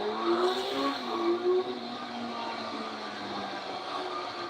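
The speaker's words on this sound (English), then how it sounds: "I do love the sound this inline 4 makes." An inline-four motorcycle engine runs at speed with a smooth, high-pitched whine that shifts pitch slightly in the first seconds and then holds steady, alongside wind rush and no talking.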